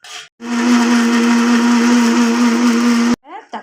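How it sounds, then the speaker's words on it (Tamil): A blender grinds tomato, mint and green chillies for a pressure-cooker chicken dum biryani, running loud and steady for about three seconds with a strong constant whine, then stopping abruptly into a brief clatter. "நல்லா கழுவி தக்காளி புதினா பச்சை மிளகா எல்லாம் போட்டு அரைச்சிக்கலாம்"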